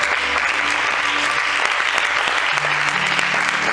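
A church congregation applauding during a service, loud sustained clapping from many hands with steady dense texture and faint tonal hum underneath.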